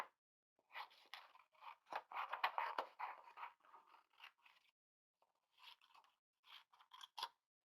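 Scissors cutting paper figures for a collage: close, quiet snips and crisp scraping blade strokes in bursts, with a short pause midway, no talk.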